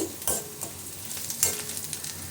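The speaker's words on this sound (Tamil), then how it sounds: "இப்போ வெங்காயமும் நல்லா வதக்கியாச்சு" Onions sautéing in oil in a pan, a soft sizzle with a few brief scrapes and stirring clatters from a spoon, fairly quiet and close, no voices.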